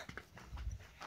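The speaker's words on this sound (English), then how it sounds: "isn't she such a beautiful big horsey?" Large mare moving nearby, a few soft hoof thuds and clip-clops over about a second, faint and close.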